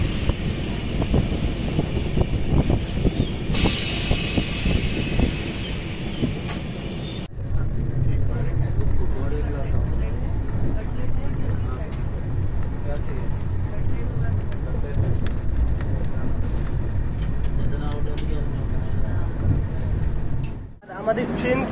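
The 12124 Deccan Queen Express runs through the ghat section near Khandala, a steady loud rumble and rattle heard from on board with wind noise, shifting in tone partway through as the train moves on.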